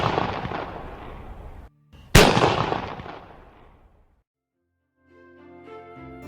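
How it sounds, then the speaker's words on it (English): Two loud booming blasts from a bird-scaring cannon, the first rolling out and decaying, the second sharp and echoing longer, followed by faint tonal chirping. "letting off cannons behind me"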